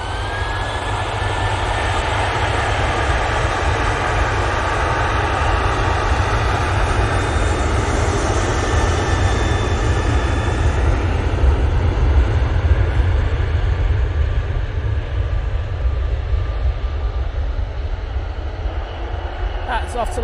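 A TUI Boeing 737-800 jet rolls down the runway on takeoff, a loud sustained engine roar with heavy low rumble and rising whine filling the whole stretch, steady and close, with faint background talk possible.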